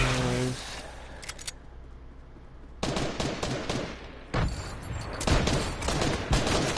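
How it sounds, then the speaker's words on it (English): Gunfire in the Fortnite video game: rapid bursts and single shots crackle near and loud, with a brief lull in the middle before dense volleys resume. "they're shooting at me."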